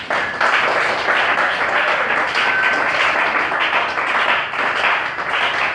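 A church congregation bursts into applause, a dense, even wash of clapping from many hands that holds at a steady loudness from start to finish.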